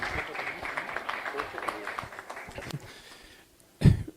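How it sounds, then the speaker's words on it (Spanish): Audience applause at a progressive politics forum panel: clapping fills the room and gradually thins out to quiet, with voices over it, before a loud close thump at the end. "Un aplauso para Sacha Llorenti y sus palabras ahora en este panel."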